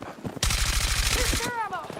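Rapid automatic gunfire in a video game, a close, loud burst of evenly spaced shots lasting about a second, followed by a brief ringing tail and faint voice fragments.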